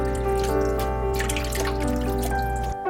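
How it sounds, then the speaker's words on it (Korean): Salted cabbage being rinsed by shaking it in a bowl of clean water, giving a steady close sloshing and trickling of water with a faint tonal hum running under it. "2시간 동안 소금에 절인 양배추는 이렇게 깨끗한 물을 받아서 이렇게 흔들어가면서 2-3번 정도 씻어주세요."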